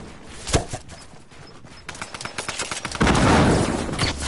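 Video game gunfire crackles in bursts, a sharp shot near the start and then a run of rapid reports building into denser, louder fire toward the end, with no talk over it.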